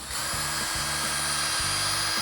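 A power drill whirs steadily at close range, its motor pitch dipping briefly several times as it bores a small hole.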